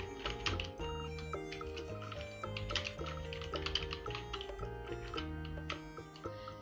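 Rapid, uneven clicking of a computer keyboard as someone types in MS Word, close and fairly quiet, with bursts of keystrokes and brief pauses.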